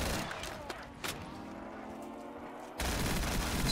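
Gunfire from Black Ops III Custom Zombies on the Night Watch map: a few sharp shots near the start, then a duller stretch and a louder burst of noise at the end, all fairly quiet overall.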